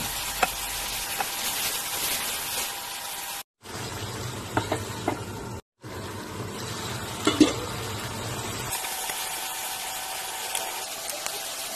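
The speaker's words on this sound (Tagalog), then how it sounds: "At ngayon naman sibuyas, prito na natin." Steady sizzling of onions frying in hot oil, with occasional stirring clicks and scrapes; no voices, only the continuous crackle.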